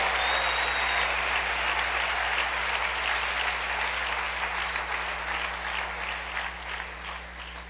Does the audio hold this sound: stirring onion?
no